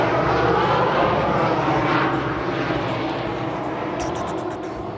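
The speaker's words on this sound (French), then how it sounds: "il y a un avion qui passe juste maintenant, comme d'habitude." An airplane passes overhead with a loud, broad engine roar that fades slowly over five seconds, with no one talking.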